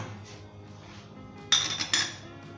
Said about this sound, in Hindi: इसे ढक्कन लगाएंगे।